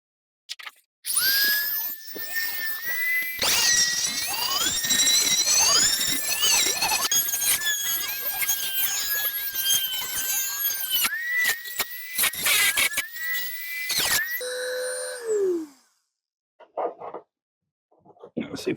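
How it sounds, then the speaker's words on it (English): A Dremel with a small cutoff wheel cutting off rusty screws, a loud high whine that holds steady for several seconds and shifts pitch as it bites, then winds down and stops. "just get the Dremel in there and with a little cutoff wheel and cut those screws off"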